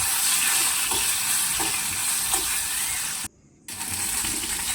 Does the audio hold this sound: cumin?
yes